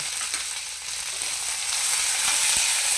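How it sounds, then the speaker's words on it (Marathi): Mixed vegetables for Sankranti Bhogi bhaji, salted, frying in oil: a steady, dense sizzle with a bright hiss that holds throughout and swells slightly toward the end, with no talking. "यांना चांगलं असं तेलावर फ्राय करून घ्यायचं"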